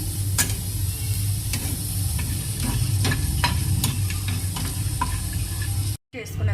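Garlic and red chillies frying in a pan: a loud, continuous close-up sizzle with scattered light taps and stirring clicks, cutting off briefly just before the end.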